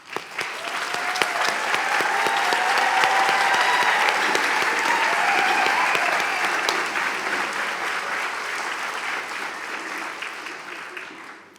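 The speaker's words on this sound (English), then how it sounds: "Let us begin with a warm welcome and joyful applause to the class of" Sustained applause from a large graduation ceremony crowd welcoming the graduating class, steady and loud, swelling early and then slowly tapering off over about eleven seconds.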